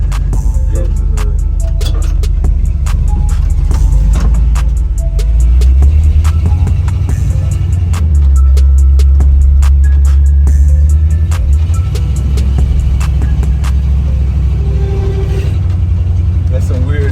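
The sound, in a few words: 1985 Chevrolet C10 truck engine running with weird noises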